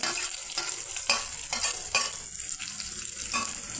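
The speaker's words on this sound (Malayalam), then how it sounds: "നമുക്ക് വഴറ്റാം ഒത്തിരി അങ്ങ് വഴറ്റണമെന്നില്ല" Green chili, curry leaves and ginger are sautéed in a hot pan, with rhythmic spoon strokes scraping through a continuous sizzle, several distinct stirs spaced about half a second apart.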